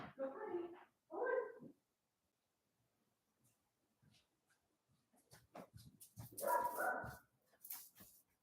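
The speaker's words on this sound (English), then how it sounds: "he's going to bark because he's just that way and I love him, so don't judge my dog" A dog barks indoors in a few short, distinct bursts, separated by a long quiet gap, with faint rustling in between. Nobody talks.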